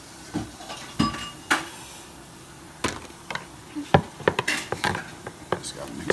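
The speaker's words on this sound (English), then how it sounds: "Just gotta mix it up pretty good." A chemtrail buster mixture is stirred with activator in a container, giving irregular close clinks and knocks of a utensil against the vessel, sparse at first then quicker, with faint speech at moments.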